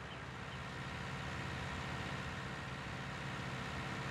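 A tractor engine in the farming game Farming Simulator 19 drones with a steady, even low rumble that stays constant and moderately quiet throughout, with no speech over it.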